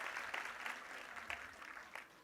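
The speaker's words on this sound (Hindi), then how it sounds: "जोरदार तालियां हो जाए पीटीपी 1 and 2 सचिन ब्रांच" Applause from parents at a preschool performance event, steady clapping with scattered louder claps, fairly faint and distant throughout.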